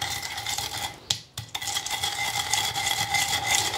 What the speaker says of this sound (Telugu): నేను రోట్లో దంచేసుకుంటున్నా.